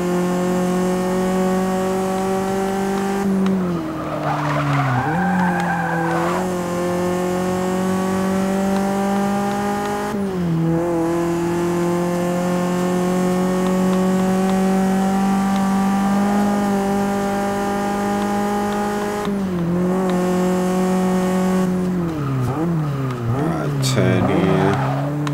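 Race car lapping a track in Forza Motorsport 6, a loud continuous engine whine climbing through the gears with sharp drops at shifts and braking, brief tyre squeal, and someone talking over it.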